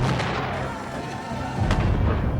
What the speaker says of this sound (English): British cannon at Chad's Ford began pounding the American line